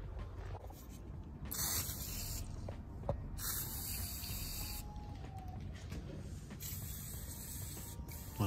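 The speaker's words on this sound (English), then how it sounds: "I will spray more loosening oil in there just to try to free it up a little bit" A can of penetrating oil sprays in several short hissing bursts, close up, with brief pauses between them, while loosening a part on a 1999-2006 Chevy truck.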